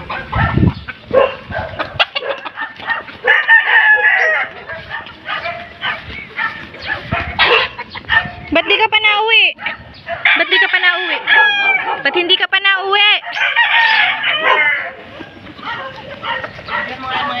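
A rooster crows repeatedly with chickens clucking nearby on a farm, mixed with a dog barking and people talking over the commotion.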